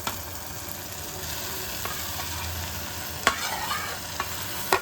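Spinach is stirred into cooked-down tomatoes and moong dal in a pot. A spoon scrapes and clacks against the pot over a steady, close sizzle, with a few sharper knocks and no talk.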